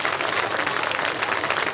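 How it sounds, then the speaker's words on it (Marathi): Audience applause at a gathering honouring guests from Germany, dense sustained clapping from a crowd, loud and steady throughout. "जोरदार टाळ्या वाजवा"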